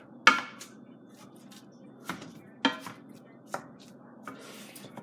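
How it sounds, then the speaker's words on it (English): A spatula breaks up cooking meat in a pan for burrito filling, giving several sharp, separate knocks and scrapes against a quiet background. "Now you break up the meat with anything with a spatula or something like this."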